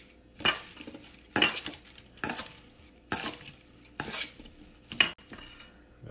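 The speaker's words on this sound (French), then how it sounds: "On va passer avec des pinces." Kitchen tongs lift dressed salad onto a plate at a home steak dinner, giving five separate bursts of clinking and rustling at a steady rhythm, close and fairly loud, with a quiet room between them.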